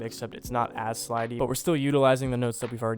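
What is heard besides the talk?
No everyday noises stand out.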